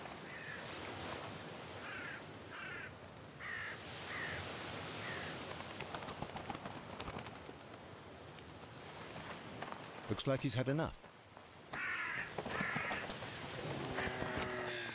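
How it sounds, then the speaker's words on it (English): Crows caw near a Siberian tiger feeding on a kill in Primorsky Krai, harsh calls scattered among rustling, with someone talking over much of it and a loud burst of cawing near the end. "No, not the crows. That's too much."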